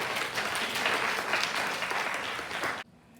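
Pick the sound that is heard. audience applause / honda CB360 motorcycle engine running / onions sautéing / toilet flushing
audience applause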